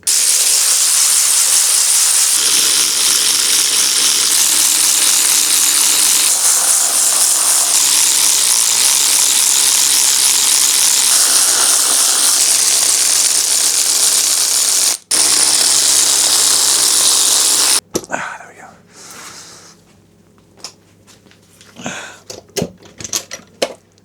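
Workshop teardown of a Volkswagen Golf GTI engine, cylinder head being removed from the block: a loud, steady hissing, mechanical whir runs for about eighteen seconds, then gives way to sparse ratcheting clicks and clanks.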